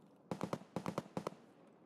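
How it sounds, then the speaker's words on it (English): Grenades burst in a first-person shooter, a quick string of sharp, mid-distance blasts arriving in three clusters of two or three pops each, with quiet gaps between. "I'm hearing nades"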